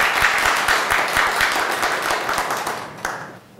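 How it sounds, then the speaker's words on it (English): An audience at a university lecture on video game law gives a dense round of applause that runs steadily and loudly, then tapers off near the end. "if you all give him a round of applause for coming"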